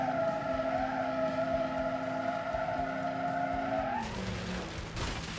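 Tires squeal in a long, sustained skid from a 300 HP all-wheel-drive hatchback in BeamNG, loud and close, ending in a rough scraping crash after about four seconds.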